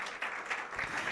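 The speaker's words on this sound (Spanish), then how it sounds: "Dele ese aplauso fuerte." Brief, quiet clapping from a Pentecostal church congregation, a short burst of applause lasting about a second.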